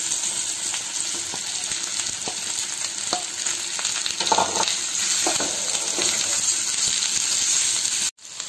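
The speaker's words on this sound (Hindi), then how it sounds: "हम इन्हें गोल्डन ब्राउन होने तक फ्राई कर लेंगे" Round potato slices frying in hot oil until golden brown, a close, steady crackling sizzle with scattered pops, continuous for several seconds before a brief cut.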